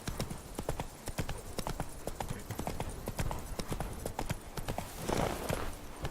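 Geralt's horse Roach trots in The Witcher 3, a brisk, evenly paced clip-clop of hooves, close and continuous over a faint game ambience, with no talking.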